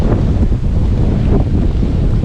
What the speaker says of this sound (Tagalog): Ang hangin tsaka ulan ang malakas dito guys.